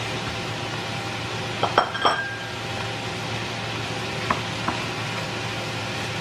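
Pansit bihon noodles sizzle steadily in a large wok, with a few sharp metallic clinks and scrapes of a utensil against the pan, close and continuous with no talking.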